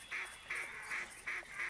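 Repeated honking calls of ducks flying in, in the hunting video game theHunter Classic, about five evenly spaced, nasal and steady, over a constant hiss, with no talking.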